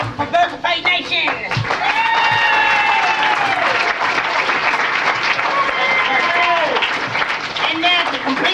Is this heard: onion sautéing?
no